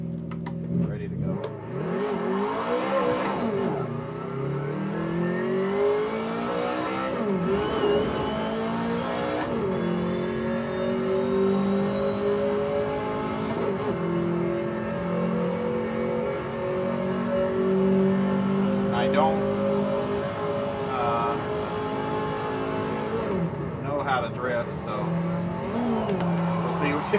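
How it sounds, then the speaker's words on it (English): A BMW E30 rally car engine in the Dirt Rally video game revs loudly and continuously, its pitch climbing and falling through repeated gear changes with a steady, close drone throughout. "we're gonna rip this BMW E30"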